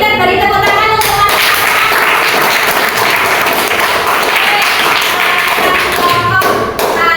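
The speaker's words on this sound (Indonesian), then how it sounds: "beri tepuk tangan untuk Mas." Pupils in a classroom burst into loud, close, rapid clapping for a classmate. It is dense and continuous throughout, with a few thumps and some voices mixed in.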